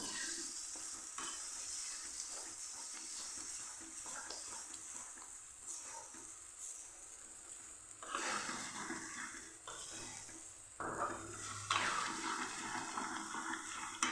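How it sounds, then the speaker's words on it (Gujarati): Fenugreek leaves sizzle and sauté with spices in a pan for papad methi shak, a steady close frying hiss broken by scraping stirs, with a few louder bursts toward the end. "મેથીને સરસ આપણે મસાલા સાથે સાતરી લઈશું"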